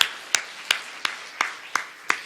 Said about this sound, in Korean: 하나님께 박수를 그리 할렐루야